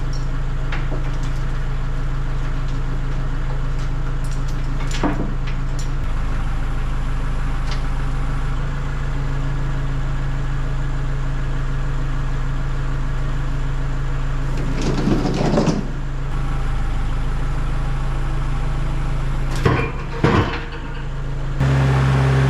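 A tractor engine runs steadily with a low, constant drone while it moves a woodstove across snowy ground. Occasional knocks and clunks cut through the engine, and there is no talk.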